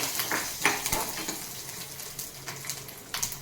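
Curry leaves and garlic fry in hot oil with a soft, crackling sizzle, punctuated by sharp spatters and light clinks of a stirring utensil against the pan; no one speaks.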